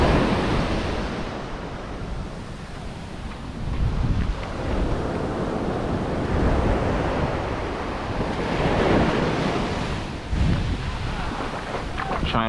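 Ocean surf rolling onto the beach at Far Rockaway, a steady broadband wash with waves swelling and breaking every few seconds, mixed with wind buffeting the microphone.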